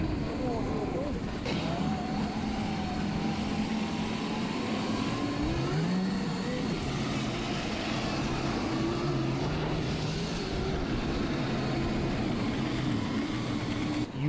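Several Sur-Ron electric snowbikes fitted with tracks, some running 60 and some 72 volts, whine and rumble steadily across snow, with motor pitch rising and falling as they pass, under intermittent talk.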